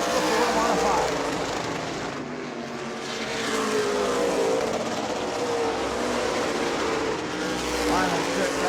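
Florida modified race cars roar around the track on the final lap at the New Smyrna World Series, a dense sustained engine howl swelling and easing as cars pass, with an announcer talking over it.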